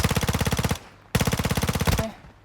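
Automatic gunfire in Warzone Mobile, two rapid bursts of evenly spaced loud shots, each lasting under a second, separated by a brief pause.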